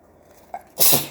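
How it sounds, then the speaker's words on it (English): A single sharp sneeze, close and loud, preceded by a brief intake of breath. "I sneeze."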